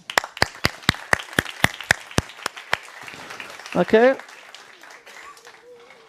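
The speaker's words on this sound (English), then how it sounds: "just give him applause." At a sports workshop, sparse hands clap about a dozen times in a slow, even rhythm, fading out before a voice speaks briefly.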